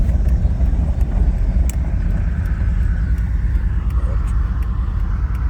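A vehicle passes nearby on a road beside a Silverado pickup, producing a loud, steady low engine and tire rumble that fills the whole moment without any talking.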